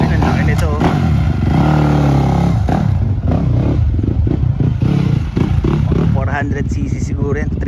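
Off-road motorcycle of roughly 300-400cc at a Yamama MX track in Saudi Arabia, its engine revving and droning loudly and continuously, with people talking over it throughout.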